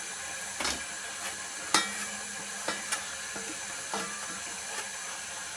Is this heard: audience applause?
no